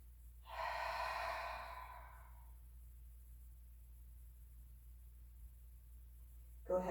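A single deep breath during a yoga abdominal exercise, a broad airy exhale swelling in about half a second and fading over roughly two seconds, followed by near silence.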